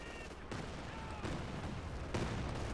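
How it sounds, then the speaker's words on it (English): Calliope rocket launcher firing a barrage in Company of Heroes 2, heard as a run of rapid rushing launches and booms, with fresh bursts coming in waves over a dense battle din. "Calliope firing again"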